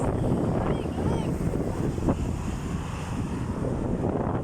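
Strong wind roars steadily across the microphone, a constant low buffeting rumble with surf-like washes, loud and unbroken throughout.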